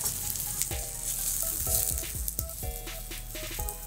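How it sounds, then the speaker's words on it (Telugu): Mushrooms sautéing in a hot pan, a constant close frying sizzle broken by repeated metallic scrapes and clinks of a spatula stirring against the pan. "ఇవి ఇట్లా 5 minutes, ఒక 2-3 minutes ఇలా సాతే చేసుకుంటాము."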